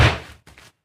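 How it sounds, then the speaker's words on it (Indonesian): A 6 kg lump of bread dough is slammed down to knock the gas out, giving one heavy dull thud that fades, then a shorter, softer follow-up knock close by. "Kita banting-banting sedikit"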